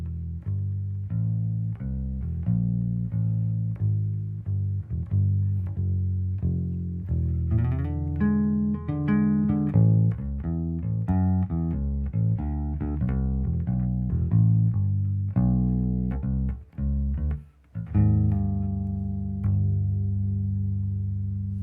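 Guitar strung with GHS flatwound strings playing a bluesy passage of single notes and chords, warm and rounded, plucked alone with clear separate attacks and short pauses near the end.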